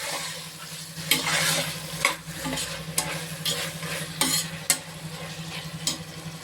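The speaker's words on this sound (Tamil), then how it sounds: "இஞ்சி வெள்ளைப்பூடு போட்டதுனால குக்கரில் அப்படியே ஒட்ட ஆரம்பிச்சிடும். அதை கொஞ்சம் நம்ம கிண்டி விட்டுட்டே தான் இருக்கணும் கவனமாக" Ginger and garlic frying in a pressure cooker for vegetable biryani sizzle close up, while a ladle scrapes and knocks against the metal base in an irregular rhythm of sharp clanks; no voices.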